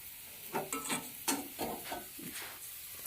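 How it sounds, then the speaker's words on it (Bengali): Cauliflower curry frying with spices is stirred in a pot, producing a continuous sizzle with repeated scraping and clattering strokes at close range. "মশলা দিয়ে দেবো এর মধ্যে ভালো করে নাড়িয়ে দিয়ে"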